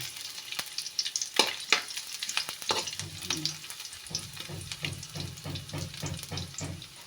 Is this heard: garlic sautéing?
yes